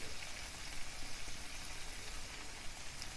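Salmon with green beans and carrots simmering with seasoning in a pan gives a steady, soft bubbling hiss with no talk, even and continuous throughout.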